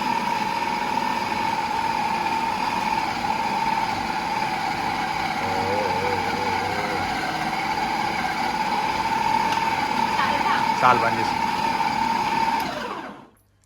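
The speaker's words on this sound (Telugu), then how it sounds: "మిక్సీ ఓకే సక్సెస్ఫుల్గా మంచిగా పిండి పట్టేసింది" A mixer grinder with a dough-kneading jar runs continuously, kneading chapati dough with a loud, steady motor whine and a rumbling churn, then cuts off abruptly at the end; a voice speaks briefly near the finish.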